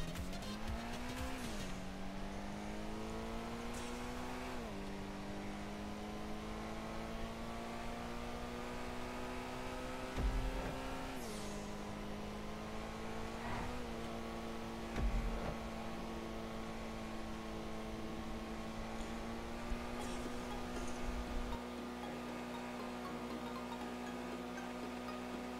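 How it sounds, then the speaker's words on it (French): A Pegassi Toros Custom SUV in GTA Online held at full throttle, its engine droning steadily with rising pitch and brief dips at gear changes, tires squealing, continuous and fairly close with no talk. "j'accélère à fond et je lâche pas l'accélérateur jusqu'à l'arrivée"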